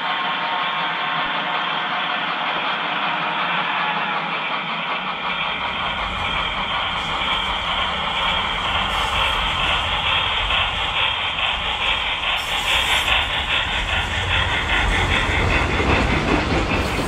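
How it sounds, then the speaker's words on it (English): A Northern Pacific steam train climbs a grade along Greenhorn Creek near Tobin, Montana, rumbling steadily and growing louder, its wheels clattering and steam hissing in a broad, continuous roar with no talking. "We'll pace the train as it climbs and crosses Greenhorn Creek."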